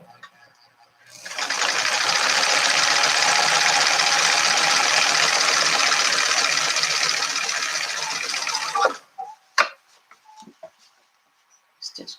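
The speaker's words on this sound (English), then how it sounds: "So I turn down a 1/2 inch, and I'm going to stitch that across all the way around the whole thing" Sewing machine running a steady continuous stitch around the liner of a fabric makeup pouch, close and loud for about eight seconds, then stopping with a few clicks and handling sounds.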